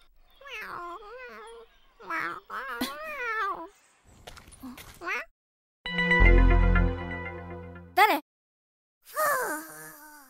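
A cat meows several times in short, separate cries with pauses between, close and clear, with one louder, drawn-out yowl.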